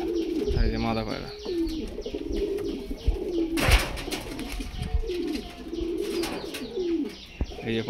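A pair of pigeons, teddy-type high and low flyers at a loft in Krishnagar, Nadia, coo in repeated low wavering rolls, close by, with someone talking over them throughout.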